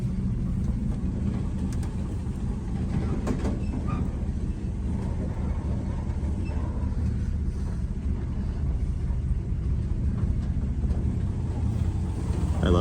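Low, steady rumbling idle of a 1967 GMC C1500 pickup with a factory big-block 305 V6, revived after sitting 20 years, as it backs off a trailer. The engine hums continuously and fairly quietly with no talking.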